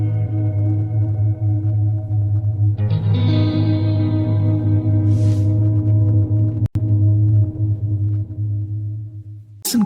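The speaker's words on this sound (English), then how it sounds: "This is the sound of a fifth." An electric guitar with heavy effects sounds sustained notes, a second tone joining partway through to form a fifth, the combined chord ringing with reverb and distortion and a brief click near the middle.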